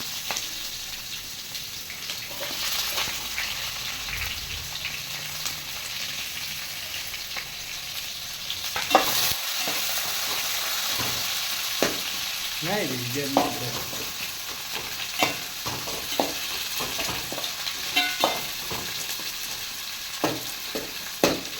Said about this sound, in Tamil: வெங்காயம் லைட்டாக பொன்னிறமாக வர வரையிலும் வேக விட்டுக்கலாம்